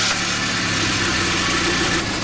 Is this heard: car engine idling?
yes